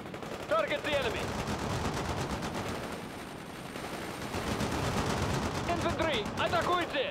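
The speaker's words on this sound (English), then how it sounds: "Fire your rifles!" Rifle and machine-gun fire crackle in rapid bursts across a World in Conflict battle, dense and continuous, while voices shout over the shooting.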